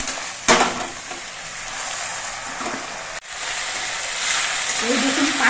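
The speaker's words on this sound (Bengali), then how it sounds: "আস্তে আস্তে জাল দিয়ে পাতাগুলোকে বেশ কিছুক্ষণ ভেজে নিতে হবে" Taro leaves frying slowly in a wok over low heat, a steady broadband sizzle running throughout with a brief sharp clatter near the start and faint utensil scrapes.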